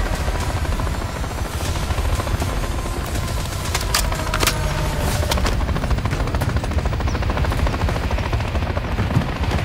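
Helicopter rotor drone mixed with bursts of automatic gunfire in a Call of Duty: Modern Warfare 3 battle near a construction zone, a steady loud roar with sharp shots punctuating it throughout.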